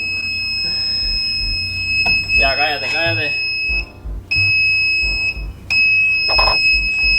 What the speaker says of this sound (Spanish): Alarma, alarma. Alguien abrió una puerta.